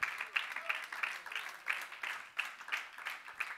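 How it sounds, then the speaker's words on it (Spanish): Church congregation claps in unison during a worship service, rhythmic bursts of group clapping at an even, repeating pulse, moderately close. "Dale palmas al Rey"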